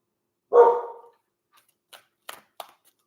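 A single loud, close dog bark rings out, followed by a few faint clicks and thumps, with silence around it.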